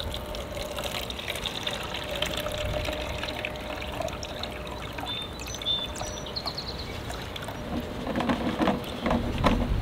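Steady water pouring and splashing continuously out of a Milwaukee Switch Tank battery-powered backpack sprayer tank, a fairly close, hissing gush with little variation and no talk over it.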